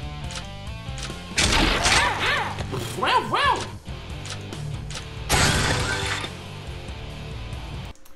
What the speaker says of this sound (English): the enter cannon sound is way too loud